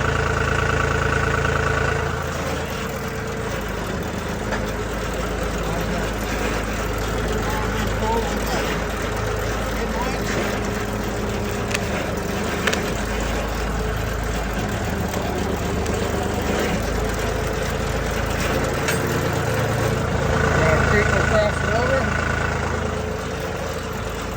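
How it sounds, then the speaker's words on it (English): The engine of a tractor fitted with a Uniforest 55H skidding winch idles steadily before pulling red fir logs, a low, constant rumble throughout, with faint background noise and a slight swell in loudness near the end. "We got the tractor backed out. We're ready to start pulling."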